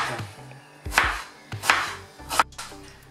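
A knife chops onion on a cutting board, three sharp separate strokes spaced about a second apart, each ending in a short scraping rustle. The sound is close and clear, with no speech.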